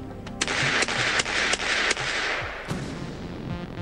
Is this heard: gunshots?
yes